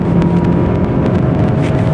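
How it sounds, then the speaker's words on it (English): An Audi Q5 Quattro downshifts through corners on an uphill road, its engine droning steadily and loudly with a continuous low rumble and no voices. "Quattro downshift inside the corners."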